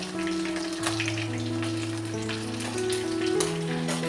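Fish sizzles steadily in hot oil in a pan, half-fried, while being prepared for a local-style fish curry with taro leaves; the frying crackle is continuous and close, with a low tonal hum underneath and no talking.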